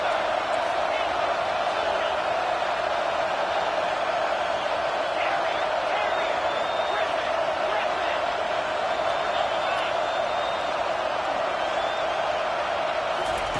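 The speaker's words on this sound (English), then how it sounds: "Crowd is loud" A football video game crowd in a Michigan versus Blue Raiders matchup roars steadily throughout, a dense, loud stadium wash with scattered whoops, sustained without break.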